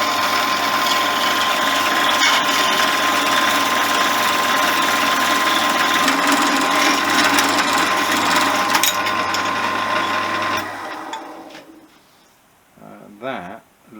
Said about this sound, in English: now I'm going to try and get a neat finish using the Bodgermatic 5mm, which involves the pillar drill and my hacksaw